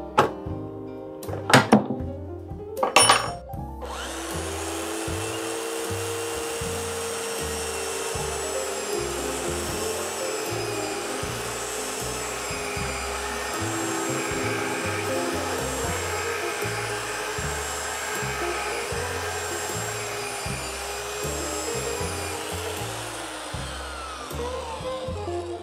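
A saw cuts steadily through a small metal profile tube, a loud continuous grinding rasp with a faint rhythmic pulse that runs for over twenty seconds after a few sharp knocks at the start.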